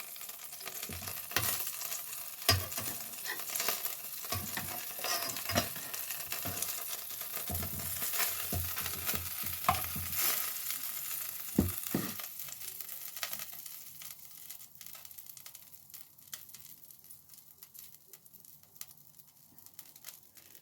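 A flipped sandwich sizzles in a hot pan, a steady close frying hiss with scattered scraping and stirring clicks that quiets toward the end, with no voices.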